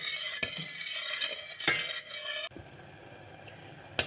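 Sugar jelly for ants being stirred in a pot over medium heat, quiet spoon scraping and a few sharp clinks against the pot, close and faint.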